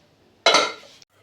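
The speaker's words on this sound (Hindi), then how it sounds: "तो अब तैयार है हमारा मोल्ड। कुकर में रखने के लिए।" A cake mould set down into a preheated pressure cooker, giving one short metallic clunk and scrape of pan against pot, near and clear, fading within about half a second.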